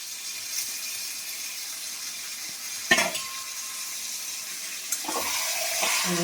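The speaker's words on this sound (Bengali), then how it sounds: "মাংসটা কষে নিই।" Chicken sautéing in a hot pan for chicken kosha gives a steady sizzle, broken by a sharp scrape or clatter near the middle and another toward the end; no one talks.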